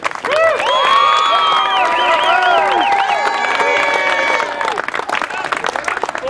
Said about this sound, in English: a big round of applause for our returning sachem